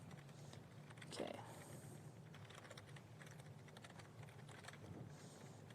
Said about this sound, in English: when you're typing in front of an audience